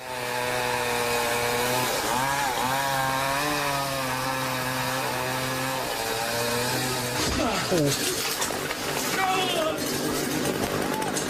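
A chainsaw up in a tree whines with a rising and falling pitch as it revs, then changes abruptly to rougher cutting noise near the end.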